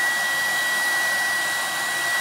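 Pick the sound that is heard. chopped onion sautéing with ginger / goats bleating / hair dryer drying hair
hair dryer drying hair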